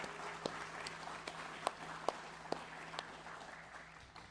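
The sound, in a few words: audience applause for Fulbright students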